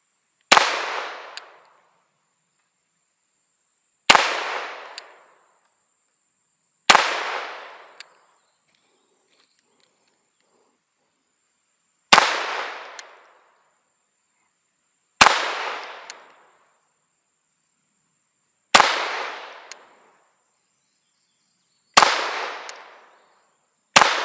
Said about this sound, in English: First mag ever out of the Ruger 22/45 Lite